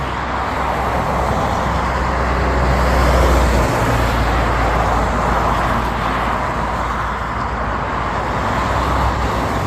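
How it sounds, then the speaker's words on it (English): A white car drives past on a road, a steady broadband rumble of tyres and engine that swells slightly around the middle and stays loud throughout with no talking. "Hopefully I got that snapshot without that white car going by like that."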